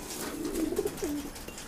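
Pigeons coo softly while being fed, giving a short, low, throaty burbling call close by against a faint background hiss.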